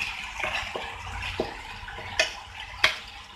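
Water poured into a chilli paneer sauce in a pan while cooking, with a soft splashing pour and a few sharp clinks of utensils against the pan.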